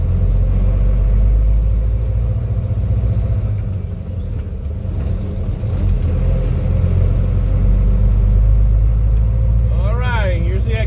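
Heavy truck engine at steady load while the driver floats gears on a road drive, a loud continuous low rumble and drone running throughout, with a brief dip around four seconds and a rising whine near the end.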